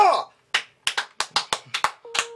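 Several sharp, separate hand claps ring out close and crisp in an irregular rhythm after a brief voice, with a short electronic tone near the end.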